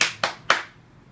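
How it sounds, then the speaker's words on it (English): Three sharp hand claps ring out close by in an even, quick rhythm in time with a children's song, each clap fading briefly before the next, with no talking. "When you're happy and you know it, clap your hands."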